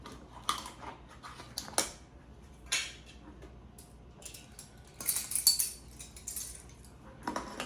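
A new container of baking powder being opened in a home kitchen, with scattered clicks, crinkles and rustles of packaging, a few sharper snaps and a brief louder tearing burst near the end, close and moderately quiet.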